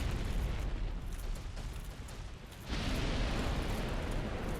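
Black Dragon Kalameet sweeping a right-to-left fire breath in Dark Souls Remastered, a loud sustained roaring rush that dips briefly and then swells back fuller and harsher for the rest of the stretch.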